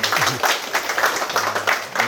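An audience at a civic heritage lecture forum gives the speaker a round of applause, a dense, steady patter of many hands clapping at close range with no voices above it.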